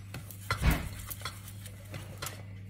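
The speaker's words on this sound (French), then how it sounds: "Je vais mélanger mes œufs." Eggs are mixed with a spoon in a bowl for a strawberry tart, with soft scraping strokes and a few light taps against the bowl, quiet and close with no talk.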